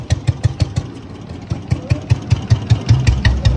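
A 1978 model Bullet motorcycle idles close by with a slow, loud, evenly spaced thumping beat from its single-cylinder engine, each pulse distinct over a low rumble.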